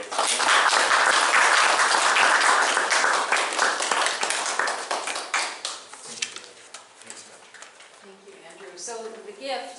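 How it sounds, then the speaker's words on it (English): Lecture audience gives a round of applause for Dr. Rothwell, dense clapping that gradually thins and fades as talking voices emerge over the last few seconds. "So if everyone would perhaps join another round of applause for Dr."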